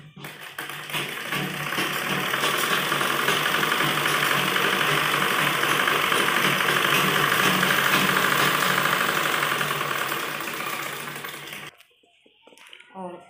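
A sewing machine running continuously as it stitches a baby frock, a steady close mechanical whir and hum that holds for about ten seconds, then stops abruptly and leaves quiet handling noise.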